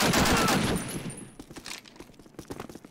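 Automatic gunfire from the 2003 Call of Duty game crackles in a dense burst at the start, then thins into scattered single shots and short rattles as it fades.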